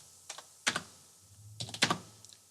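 Keyboard typing in a Linux terminal, entering a short directory command: a few quick key clicks, then two clustered bursts of keystrokes, close and fairly quiet with no talking.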